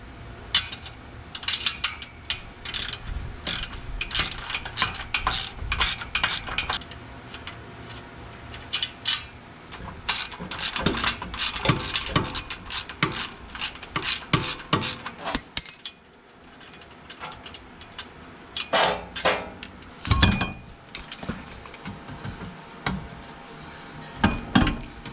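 Bolts and hangers being undone on a Skunk 2 exhaust tip of a supercharged Acura RSX, heard as close metallic clinks, taps and tool clatter in irregular bursts with short pauses and no talking.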